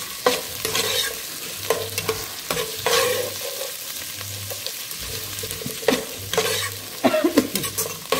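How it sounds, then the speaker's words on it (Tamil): Onions and green chillies sautéing in a pan for a Kootanchoru dish, cooked to light brown: a steady sizzle runs under repeated scraping stirs of a spoon against the pan, close and clear. "இந்த வெங்காயம் வந்து ரொம்ப வதக்கணுங்கிறது இல்லை, அந்த அரோமா வரத்துக்காக அது ஒரு லைட் ப்ரௌன் ஆகிற வரைக்கும் நம்ம வதக்கிக்கணும்"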